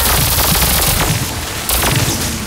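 Heavy weapon fire from an enemy in the video game Horizon Forbidden West, a dense, loud barrage of booming blasts and rapid shots with sharp bursts recurring across a busy battle soundscape.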